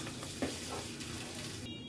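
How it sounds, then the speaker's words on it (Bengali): Onions frying in oil in a wok sizzle faintly and steadily, with a couple of soft stirring scrapes and no voices. "এখানে কড়াইয়ে পেঁয়াজ ভেজে নিচ্ছি"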